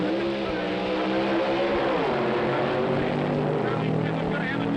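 A supercharged, fuel-injected Chevrolet Fiat drag racer launches against a stock Chevy in a competition eliminator final at the 1964 NHRA U.S. Nationals, Indianapolis Raceway Park. A loud, continuous engine roar climbs in pitch beneath an excited commentator's voice.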